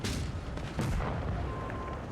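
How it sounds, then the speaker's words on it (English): A single heavy tank cannon shot from a Soviet Tier 10 Object 268 tank destroyer in World of Tanks Blitz: one loud, booming blast partway through, over a constant rumbling game background. "We take our shot, and yeah, we just completely missed the shot there."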